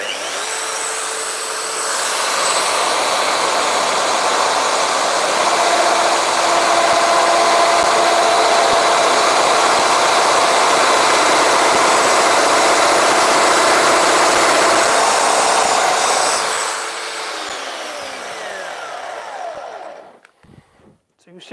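A power tool cuts a slot in a wood Death Star phone stand in a wood shop, a loud steady whirring roar running about fifteen seconds before winding down, with no dust extractor in use.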